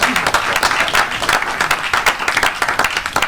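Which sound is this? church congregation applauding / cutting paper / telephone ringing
church congregation applauding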